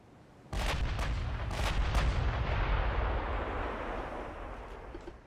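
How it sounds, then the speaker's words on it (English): Battleship main guns fire in the 1940 naval battle game Ultimate Admiral: Dreadnoughts, with a sudden heavy boom followed by several more sharp blasts over a long, deep rumbling roar. "Let's go ahead and start turning to match. so we can get our rear guns firing as well"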